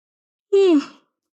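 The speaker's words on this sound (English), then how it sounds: "I need a yawn" One person lets out a short, loud, voiced yawn that drops in pitch and fades out after about half a second, with quiet before and after.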